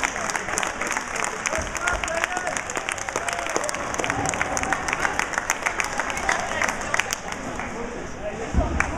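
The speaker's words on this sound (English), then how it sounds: "Big hand from still a big crowd sticking around here at the end of singles" A large crowd at a bowling event applauds steadily after singles play, dense clapping filling the whole stretch with scattered louder hand claps and a low crowd murmur beneath.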